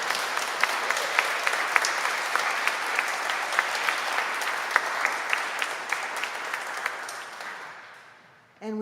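Church congregation applauding together at a worship service, a steady dense patter of many hands clapping that fades out near the end.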